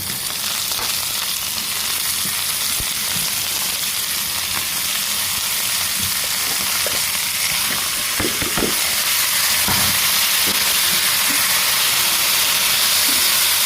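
Dried shrimp and potatoes fry in a pan in a village-style kitchen, giving a steady, close sizzle throughout with a few scraping stirs and crackles along the way.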